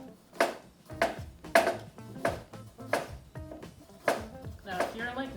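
A knife slicing fresh ginger into thin slices on a cutting board, a steady series of crisp, evenly spaced chops up close, heard alone with no talk.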